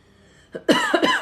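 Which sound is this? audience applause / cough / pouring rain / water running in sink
cough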